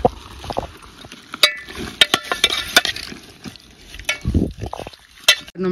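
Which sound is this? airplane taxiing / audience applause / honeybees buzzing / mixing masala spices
mixing masala spices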